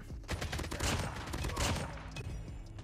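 Rapid gunfire from a weapon in the video game Call of Duty Mobile, dense bursts of shots at moderate volume.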